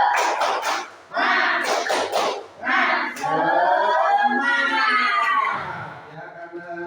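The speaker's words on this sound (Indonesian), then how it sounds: "Tepuk semangat." Schoolchildren in an Indonesian classroom chant a 'tepuk semangat' spirit routine, voices shouting together with bursts of rhythmic clapping mixed into the chanting, loud and close throughout.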